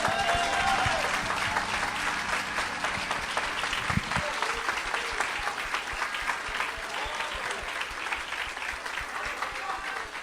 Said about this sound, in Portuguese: Aplaudam mais.